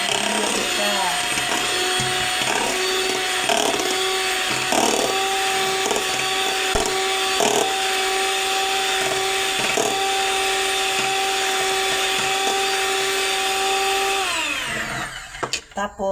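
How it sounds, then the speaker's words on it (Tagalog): A hand mixer whirs at steady speed through a whipped mixture, a loud, continuous motor whine with faint rattles, cutting off near the end; a voice speaks over it. "Kailangan mo ng mixer, hand mixer. Para mag-bulyum siya."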